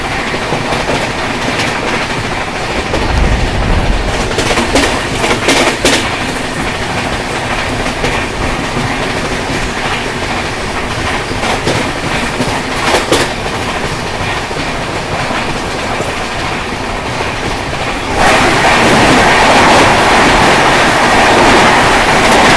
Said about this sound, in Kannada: ಕ್ರಾಸ್ ಮಾಡೋದೈತ್ರಿ ಡೌನ್ ಹೋಗುವಂಥ ಹಜರತ್ ನಿಜಾಮುದ್ದೀನಿಂದ CSMT ರಾಜಧಾನಿ ಎಕ್ಸ್ಪ್ರೆಸ್